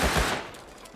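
Gunfire in the survival game Rust, a short loud burst of several rapid shots up front that trails off into a fading echo and room noise.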